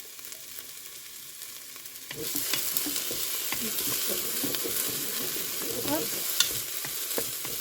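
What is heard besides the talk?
butternut squash sautéing in a pan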